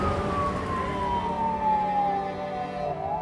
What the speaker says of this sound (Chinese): 灵车行经分队、消防车鸣笛致敬